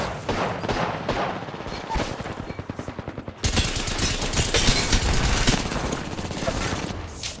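Gunfire in Apex Legends during a ranked match, with rapid rhythmic shots at first, then a denser, louder burst of fire continuing steadily to the end.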